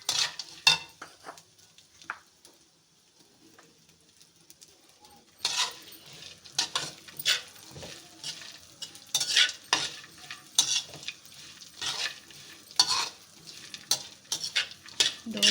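Panjiri ingredients roasting together in a pan are stirred continuously, with scraping and clinking of a utensil against metal over a soft sizzle. It is quiet at first, then gets busier with irregular scrapes.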